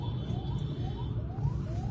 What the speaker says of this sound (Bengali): এই জন্য অ্যাম্বুলেন্সের শব্দ পাওয়া যাচ্ছে।